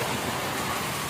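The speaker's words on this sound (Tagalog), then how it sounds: "Lakas pa rin ang ulan" Heavy rain falls steadily, a dense, unbroken hiss of downpour filling the short stretch with no other sound.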